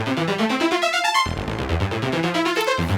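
A Future Retro 512 touch keyboard arpeggiator runs with its direction reversed, quick synth notes stepping downward in rapid repeating sequences, loud and alone.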